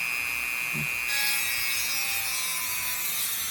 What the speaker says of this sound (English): we're going to drill that second hole. And to do that, we're going to get our Dremel going